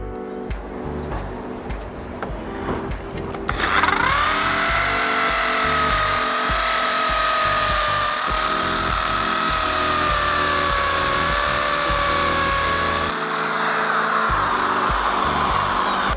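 A Buildskill Pro electric drill bores a hole into a solid cement wall, starting after a brief clatter and whining loudly and steadily at close range for about ten seconds before easing off.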